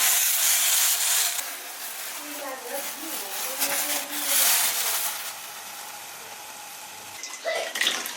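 Water in a pot on the stove, boiling and bubbling while a chicken dish is cooked, a steady hiss with a brief splash near the end as people talk nearby.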